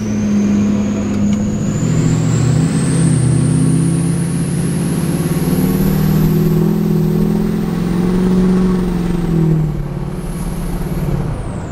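Duramax diesel pickup with upgraded exhaust manifolds and up pipes, towing a trailer on the road. The engine drones loud and close as it pulls steadily through a long acceleration while a high whine climbs, with no talk heard.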